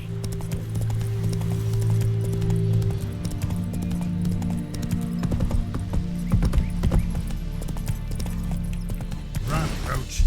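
Roach the horse galloping in The Witcher 3, a fast steady clip-clop of hoofbeats close by beneath a low game hum, with someone talking over it and a brief whinny near the end.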